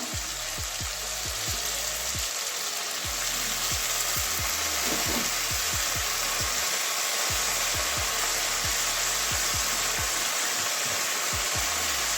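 Washed water spinach greens hitting a hot pan of masala, a loud continuous sizzle with rhythmic scraping stirs and clanks, close up, no talking.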